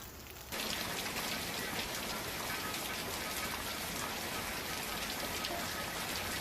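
Heavy monsoon downpour in Deesa, Banaskantha, Gujarat: a dense, steady roar of rain pounding surfaces, loud and continuous after a brief quieter opening, with no voices.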